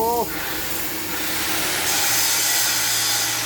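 Power drill boring into steel while a pickup truck's sloped rear flatbed is being built: a steady, loud grinding hiss that runs unbroken through the whole stretch.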